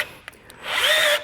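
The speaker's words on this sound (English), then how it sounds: "We're going to drill into the chassis." Power drill driving a self-tapping screw into a 2017 Jeep chassis frame, a brief whir rising in pitch after two faint clicks, close and loud.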